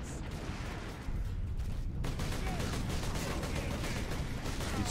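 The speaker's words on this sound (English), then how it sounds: "Dude, I hate these bolters." Bolter gunfire in the Space Marine video game, a dense rapid stream of loud shots that starts sparse and becomes continuous and heavy after the first second.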